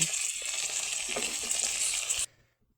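Steady crackling sizzle of prawns frying in oil, with faint scraping of a utensil in the pan, cutting off abruptly near the end.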